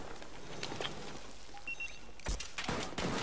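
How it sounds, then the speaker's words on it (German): Pistol gunfire in a Battlefield 4 pistol-only match, with scattered sharp shots and bursts over a busy game backdrop, including a louder pair of cracks near the end. "Ich schieße einfach blind irgendwo hin."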